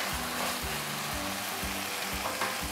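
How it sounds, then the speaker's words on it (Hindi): Green beans frying in ghee in a pan, cooked for about seven to eight minutes, give a steady, close sizzle with a rhythmic scrape of stirring running through it and no talking. "फलियों को तकरीबन 7 से 8 मिनट हो चुके हैं, तो बड़ी अच्छी तरह भुन चुकी हैं ये देखें, घी छोड़ दिया साइड पे।"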